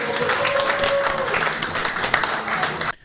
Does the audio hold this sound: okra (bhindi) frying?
no